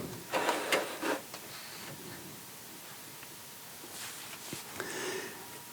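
Vintage rotary switch turned by hand while its shaft is clamped in a vise, giving a few close, soft mechanical clicks and rubbing scrapes in short bursts, separated by a quiet stretch.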